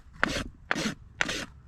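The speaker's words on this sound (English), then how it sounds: "changing the angle of the rasp, rounding the toe all the way into that toe pillar" A rasp files the toe of a horse's hoof toward the toe pillar, producing four close, gritty scraping strokes in an even rhythm.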